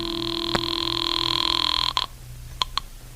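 An old-fashioned telephone bell rings in a 1950 radio detective drama, a sustained electric ring followed by two short bursts after a pause, close and clear with no talk.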